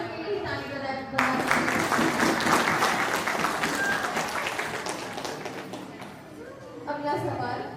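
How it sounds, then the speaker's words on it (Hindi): A crowd at a Birsa Munda 150th birth anniversary celebration bursts into loud, dense clapping after a quiz answer, swelling abruptly, holding for about five seconds, then fading as people begin talking again. "एक सही जवाब और एक गलत जवाब दोनों के लिए ताली बजाना।"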